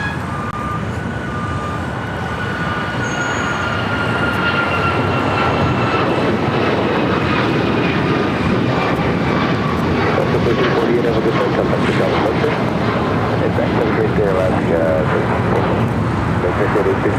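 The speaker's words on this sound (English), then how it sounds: "Next takeoff is Alaska Airlines Flight 1348 heading to Puerto Vallarta at a 737 MAX 9." An Alaska Airlines Boeing 737 MAX 9 takes off from LAX for Puerto Vallarta, its jet engines holding a loud, steady roar throughout with a faint whine rising over the rumble.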